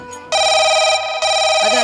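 A telephone rings loudly and close, a sustained electronic trill that breaks briefly and then resumes.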